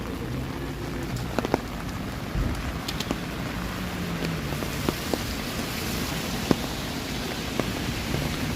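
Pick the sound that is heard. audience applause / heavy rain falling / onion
heavy rain falling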